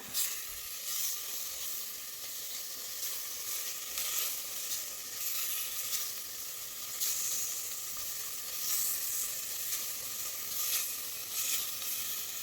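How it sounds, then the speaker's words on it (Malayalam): Spice powders sautéing in a pan for a potato masala curry cooked in a pressure cooker give a steady, close sizzle and hiss that holds evenly throughout, with faint stirring and no voices. "എല്ലാം കൂടി ഇട്ട് കൊടുത്തൊന്ന് വഴറ്റി കൊടുക്കാം. ഈ പൊടികളുടെ പച്ചമണം ഒന്ന് മാറി വരണം."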